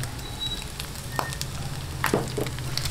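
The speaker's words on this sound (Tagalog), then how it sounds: "Atin lang pong gisa-gisahin bago natin ilagay yung kanyang sauce." Onions, garlic and chili sauté in a pan for pork sisig with a soft, steady sizzle, broken by a few light clicks and scrapes of stirring, no talking.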